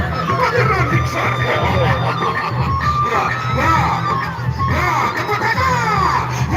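Spectators at a Peresean stick-fighting match on Lombok island shout, whoop and cheer in a dense continuous crowd roar, with voices rising over the din throughout.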